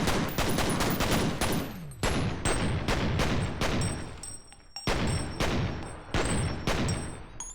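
Video game gunshots fired at enemies, sharp loud reports in quick irregular volleys of several shots each, with brief gaps between bursts and no talk over them.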